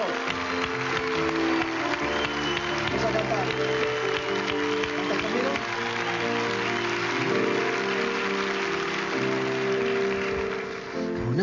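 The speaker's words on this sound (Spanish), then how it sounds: "¡Aplauso!" Studio audience applause on a television talk show, a continuous rain-like wash of clapping that lasts throughout, with voices and tonal sounds running over it.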